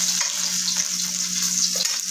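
Oil heating in a pan for frying gives a steady, close hiss and crackle that runs evenly throughout, with a low hum underneath and no voices.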